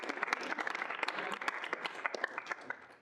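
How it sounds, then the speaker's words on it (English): A student senate meeting gives a quick round of applause: steady, fairly faint clapping from a modest group, with many overlapping claps forming an even patter for a few seconds. "let's just do a quick round of applause"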